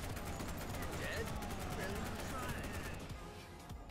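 Continuous rapid gunfire in the blocky zombie shooter Undead Blocks, a steady automatic stream running the whole time beneath a man's speech.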